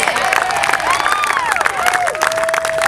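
A keynote audience at the 2017 Decatur Tiny House Festival bursts into steady, loud clapping, with cheers and a few rising whistles threaded through the dense applause.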